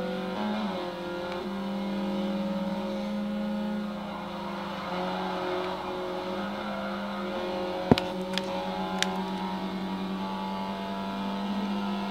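Race cars circling a track during a race with a carousel turn: a steady, fairly loud engine drone with some revving and a few sharp clicks near the end, and no talk.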